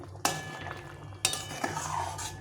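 A spoon scrapes and knocks against a pan as garam masala is stirred into duck egg curry, giving two sharp clanks and then softer scraping over a low simmer.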